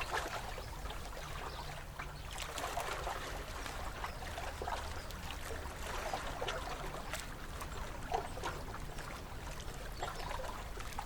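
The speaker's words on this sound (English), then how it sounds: "Each little wave laps against the hull, echoing and slapping through your little boat." Gentle water lapping and trickling against a small boat hull on a small Scottish loch, a steady soft sloshing with occasional light slaps, continuous and close.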